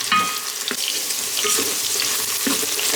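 Frankfurters sizzling and frying in oil inside an electric pressure cooker, a steady close crackle with a few stirring scrapes and bumps.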